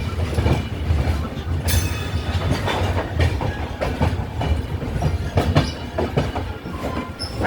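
Howrah–Bolpur Shantiniketan Express pulling out of Bardhaman, its wheels clattering rhythmically over the rails with occasional squeals, heard steadily from inside the carriage.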